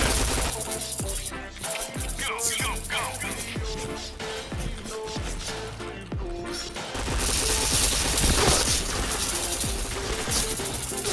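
Rapid bursts of automatic gunfire from the online shooter game PointBlank, dense and continuous with sharp repeated shots layered over game sound effects, growing louder and more chaotic toward the end.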